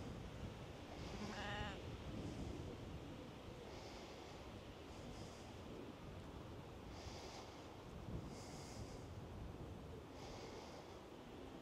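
Sheep bleat several times, spaced apart and fairly faint, over steady outdoor wind noise on a countryside walk near Groombridge.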